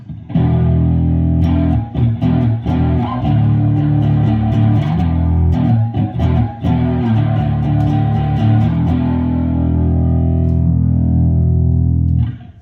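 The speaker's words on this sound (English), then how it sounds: "a little crunch on this guitar" Crunchy distorted electric guitar plays loud, heavy chords and riffs with short choppy breaks, ringing out fully before cutting off at the end.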